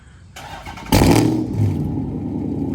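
A Dodge Charger SRT8 with modifications cranks and catches on a warm start, then settles into a loud, steady rumble with a brief rev, close by.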